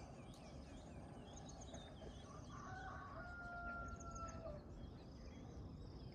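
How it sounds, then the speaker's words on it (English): Chickens cluck and a rooster crows faintly from a distance outdoors, the calls thin and soft over a steady low background hiss. "You hear the chickens."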